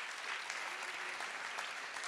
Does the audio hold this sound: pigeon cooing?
no